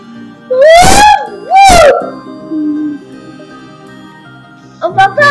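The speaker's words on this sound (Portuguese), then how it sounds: "Você grita, você vai surdecer a galera assistindo." A child screams loudly twice in long, wavering wails, then a quieter stretch follows before a short vocal outburst near the end.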